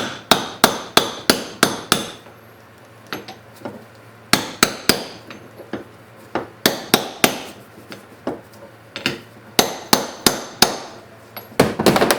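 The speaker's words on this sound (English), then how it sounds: "Let's see if we can get this bearing out now, just with a hammer." Repeated sharp metal hammer blows driving a bearing out of a Kubota U10-3 excavator track roller, struck in quick bursts of several hits with short pauses between, loud and close.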